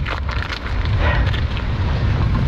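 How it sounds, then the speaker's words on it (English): Strong wind on a very windy day at a lakeside campsite, blowing as a steady, loud roar with rumbling low buffeting against the microphone throughout, no voices. "very windy day."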